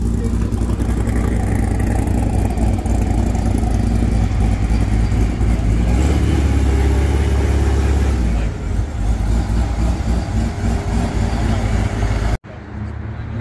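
A fully built Corvette Z06 of roughly 1200 to 1300 horsepower rumbles loudly and steadily at a Corvette club cruise meet, swelling briefly midway, with voices in the background.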